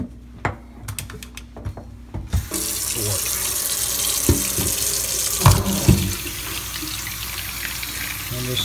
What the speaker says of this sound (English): let this run in the sink around it